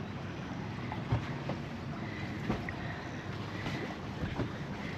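An easterly wind blows over a sailboat rocking at its mooring, giving a steady low rush with occasional soft knocks and creaks from the hull and rigging.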